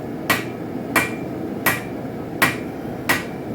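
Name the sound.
hammer flattening a forged spike knife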